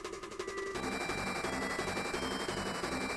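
Corrupted Kirby's Dream Land 3 game music with a swapped instrument blares as a dense, harsh, rapid rattling stream, like machine-gun fire layered over the buzzing tune.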